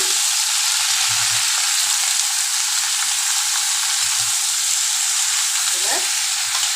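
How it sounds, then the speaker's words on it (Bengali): A mixed vegetable dish made without onion or garlic fries loudly in a pan, with a dense continuous hiss and occasional soft stirring knocks underneath. No one speaks. "সবজিগুলোকে খুব ভালো করে মিশিয়ে নেব"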